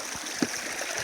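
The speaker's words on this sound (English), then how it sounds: "Just gonna shake it around a bit, break all the clay off, and mud" Clay shaken in a basket in the flowing water of a gold sluice at a creek, with a steady rush of water and one short splash.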